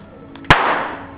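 A single sharp bang as soap bubbles filled with hydrogen gas explode, like a small burst pop, rings out after a moment of quiet hiss and fades quickly.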